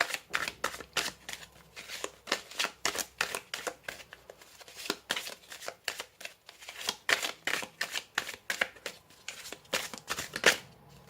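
A deck of tarot cards shuffled by hand, a rapid run of riffling and flicking bursts in an uneven rhythm, close and fairly quiet, with no talk.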